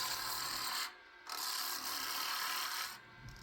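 Knife taking long peeling shavings off a piece of wood, two sustained raspy scraping strokes separated by a short pause, close and fairly quiet, with no voices.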